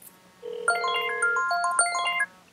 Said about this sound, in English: Next number is ringing.